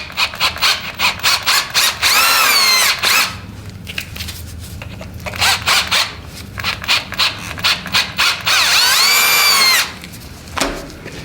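A power drill reams out holes in a metal fertilizer spreader part, giving bursts of high squealing whine and grinding that rise and drop in pitch, with short gaps and stop-start runs between the louder passes.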